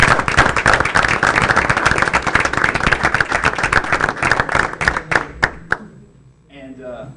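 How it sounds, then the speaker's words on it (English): A room full of people at a school board meeting claps loudly for swimming relay medalists, with dense, steady applause that thins into scattered claps before a voice starts talking at the end. "Let's give these guys a big round of applause."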